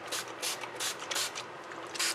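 Color spray hisses onto a silicone mat around the edges of a barn door shape in short, repeated bursts, close and fairly loud, with no voices.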